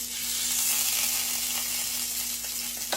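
Grease sizzles steadily in a hot skillet on a stovetop: a loud, even crackling hiss that holds throughout, over a faint low electrical hum and with a single brighter pop near the end.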